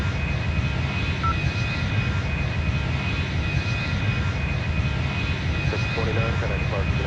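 A Boeing 737 jet engine taxiing in the Airline Commander game, a loud, steady roar with a high whine running throughout, with radio-style voices talking over it.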